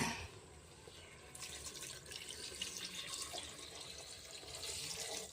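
Water running steadily from a tap or being poured into a pot of country chicken gravy, a continuous bright splashing hiss that grows slightly fuller partway through, with no talk.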